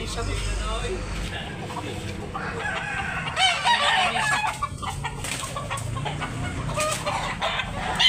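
A rooster, a bullstag, crows at a farm in Tabunok, Talisay, Cebu, one drawn-out call rising over steady background noise while someone talks nearby throughout.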